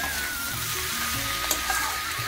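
Ginger, garlic, chili powder and turmeric fry in a pan for a curry, giving a steady, close sizzle throughout with a couple of small clicks near the end and no talk.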